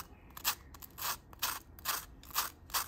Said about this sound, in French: écoutez comment ils sont croustillants